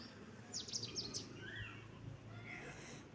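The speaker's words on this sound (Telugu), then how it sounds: "ఆ పక్షులు కిలకిల రాగాలు," Village birds chirping outdoors, a few quick high chirps and short whistled calls at moderate distance over a soft ambient hum, with insect-like buzzing faintly in the background.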